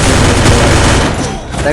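Gunfire in the Free Fire mobile battle royale game, a dense loud burst of rapid automatic shots filling the short moment, with a voice talking over it.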